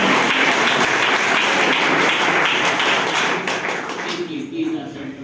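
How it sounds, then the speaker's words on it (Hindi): Loud applause and clapping from an audience at a motivational talk, a dense steady wash of many hands that thins out and fades toward the end, with some voices mixed in. "हाँ एक बार जोरदार ताली दीजिए।"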